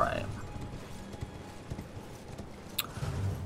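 A horse trots in Elden Ring, its hooves giving soft, irregular clip-clop thuds at close range beneath a voice.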